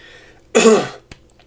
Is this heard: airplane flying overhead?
no